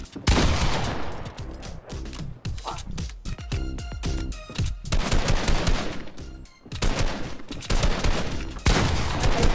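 Rifle gunfire in the Fortnite video game, with rapid bursts of loud shots and short silences between volleys, nearby and sharp, and no speech over it.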